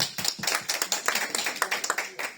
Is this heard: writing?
no